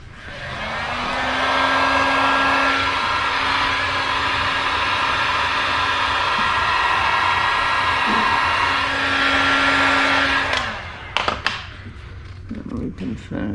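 A heat gun blows a steady, loud whooshing hum while warming a graphics decal on a TRX450R ATV. It runs for about ten seconds, then cuts off, followed by faint handling clicks and rustles.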